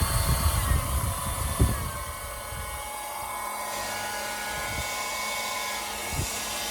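Rechargeable hair dryer running as its speed setting is changed, a steady whirring blower hum with faint tonal whine, louder and rougher at first then settling to a smoother level, close by with no talk.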